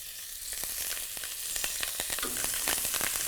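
Urad dal, fenugreek, mustard seeds and plenty of curry leaves hit hot tempering oil, sending up a bright, crackling sizzle with sharp pops and spits, close and building over a few seconds.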